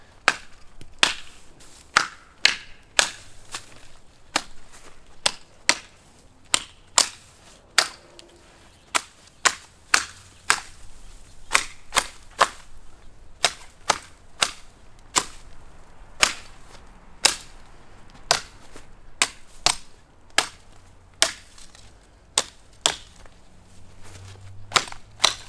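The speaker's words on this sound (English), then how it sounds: "Now I have to limb up this Christmas tree behind me." A Work Tuff Gear Woodscraft Chanto blade limbing branches off a Christmas tree outdoors, sharp sharp chopping cracks landing one after another in an irregular rhythm, around forty strikes, close and loud with no talk.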